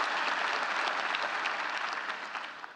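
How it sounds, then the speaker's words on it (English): Audience applause fills a university State of the University address: a dense, steady wash of many hands clapping at close range, holding strong throughout and tapering slightly at the end. "One more round of applause."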